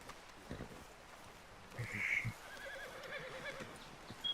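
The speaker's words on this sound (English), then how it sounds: "screw off, you stupid horse" A horse in a Western hunting video game lets out a single clear whinny in the middle of a quiet outdoor ambience, with faint hoof clops nearby.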